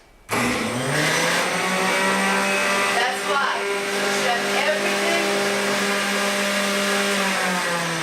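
A centrifuge juicer motor switches on abruptly and keeps whirring loudly and steadily with a high mechanical whine, while a person speaks briefly over it.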